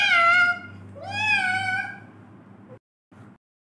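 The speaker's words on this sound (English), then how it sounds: "yes, that's a cat sound." A cat meows twice in long, drawn-out cries, close and clear, followed by a short, fainter sound.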